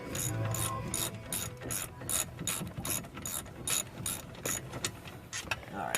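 A ratchet turning a 17 mm socket works loose a brake bolt on a 1995 Ford Probe: a rapid, rhythmic run of close metallic pawl clicks in quick repeated strokes.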